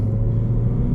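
A Mazda 2 coasting downhill in second gear at about 3,500 RPM, engine braking gives a steady, loud low drone with a constant engine hum, heard from inside the car.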